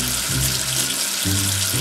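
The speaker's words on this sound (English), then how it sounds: "Wash away the soap with water." Running water rinsing soap off in a sink, a steady rushing splash that pauses briefly and then resumes, loud and close.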